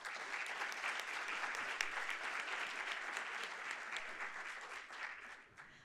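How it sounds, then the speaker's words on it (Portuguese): A large audience at a financial-career talk claps steadily and loudly throughout, a dense, sustained wash of applause that tapers slightly at the very end. "Uma salva de palmas, por favor."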